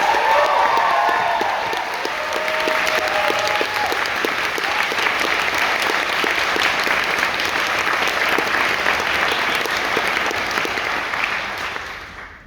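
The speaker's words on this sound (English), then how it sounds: "Please, one last round of applause for Peter." Sustained crowd applause with scattered cheers at a university closing ceremony, loud and steady for about twelve seconds before tapering off at the end, a few voices faintly mixed in.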